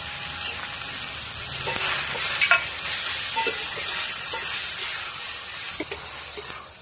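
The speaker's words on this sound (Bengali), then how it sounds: "ভালো করে কম আঁচে নাড়িয়ে নাড়িয়ে তৈরি করে নিতে হবে এই মুলো ছেচকিটা।" Radish chechki with lentil dumplings (bori) stirred and frying over low heat in a pan, a steady close sizzle and hiss with scattered scraping taps of the spoon, no talk.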